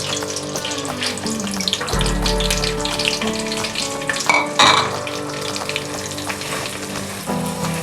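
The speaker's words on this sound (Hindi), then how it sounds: "ऑयल हीट अप हो गया, अब इसमें सूजी ऐड करूँगी।" Semolina tipped into hot oil and ghee for halwa gives a steady, close sizzling frying hiss, with a low rumble as it goes in and occasional clinks of stirring throughout.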